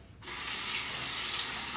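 A safety razor is rinsed under a running bathroom tap, a steady close hiss of water starting abruptly and flowing on without interruption.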